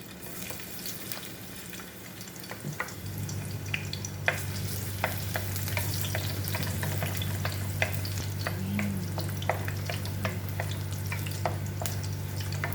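Garlic sizzles in oil in a pan for a Filipino fish sarciado. A near, continuous hiss swells after a quiet start, broken by scattered clicks of a spatula stirring, with no voices.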